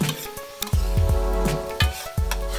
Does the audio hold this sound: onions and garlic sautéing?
yes